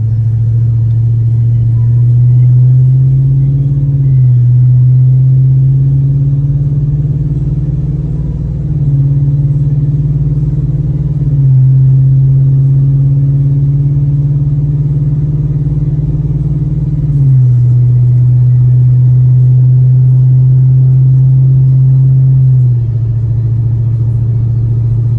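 A 2020 Ford F250 with the 7.3 gas engine and ProCharger supercharger, towing 10,000 lbs at 70 mph on cruise control, gives a loud, steady, droning cabin rumble whose pitch shifts slightly now and then.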